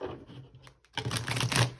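Brief close rustling and rapid papery flicks of a tarot deck being shuffled, a short quiet pause before a denser burst of shuffling.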